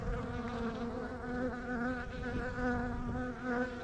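Honey bees buzz at a hive entrance, a dense, continuous hum of many wings close by, steady throughout and with no talking.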